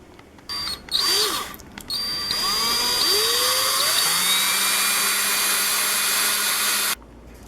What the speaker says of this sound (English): I'm going to be using a 5/8 inch drill bit, and I'm starting smaller than I need to.